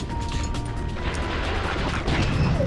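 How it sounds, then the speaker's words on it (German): A dense, rumbling crash of explosions and debris from a thrown mine in Ratchet and Clank, loud and continuous throughout, with no voices. "Ich habe jetzt einfach mal eine Mine vor mich hingeschmissen. Ja, macht einfach nur gut Boom und Bam"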